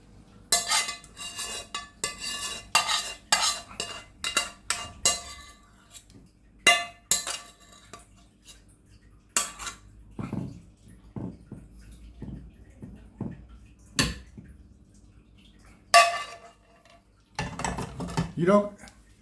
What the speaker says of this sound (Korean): 이것도 아까우니까 숟갈로 이렇게 싹싹 들어가서 넣겠습니다